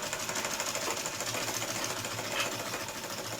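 A sewing machine runs steadily, stitching a straight seam on a kids' boutique-style lehenga, a continuous close whir with a faint rapid needle rhythm and no pauses.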